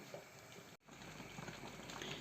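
Thick plum jam bubbles and simmers steadily up close, a dense crackling boil with a brief dip in sound partway through.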